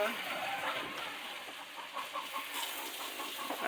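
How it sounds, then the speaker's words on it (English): A chicken clucks faintly in a backyard where children ride bikes, brief soft calls mixed into a steady outdoor hiss with people talking nearby. "I hear a chicken."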